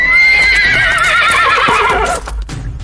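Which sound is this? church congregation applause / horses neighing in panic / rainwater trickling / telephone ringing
horses neighing in panic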